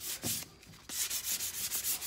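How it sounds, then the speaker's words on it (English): Light hand sanding of painted furniture with fine-grit sandpaper: close, repeated back-and-forth rubbing strokes in a steady rhythm, briefly pausing near the middle before resuming. "So I'm just gonna kind of lightly sand."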